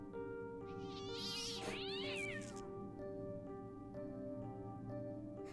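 A cat meows and caterwauls in the video game Fran Bow, several rising and falling cries in quick succession over a steady musical drone, then quiet background score.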